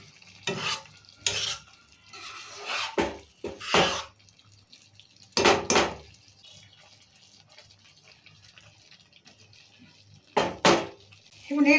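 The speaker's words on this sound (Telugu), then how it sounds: "ఇప్పుడు వాటర్ పోసుకుందాం మనము." Water is poured into frying masala in a pan, bringing bursts of splashing hiss and stirring scrapes separated by quiet gaps, close and moderately loud, with no talking.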